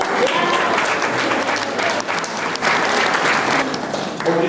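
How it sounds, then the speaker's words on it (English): A pageant audience at a sweetheart pageant gives a contestant a sustained round of applause, dense steady clapping that fills the room throughout. "Let's give a round of applause for Ms."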